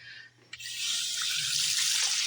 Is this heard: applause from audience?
no